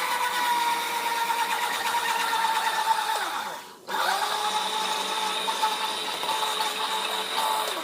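A blender whirs steadily as it mixes 25 grams of pectin into hot water for apple jam, a close, high-pitched motor whine that cuts out briefly and then spins back up.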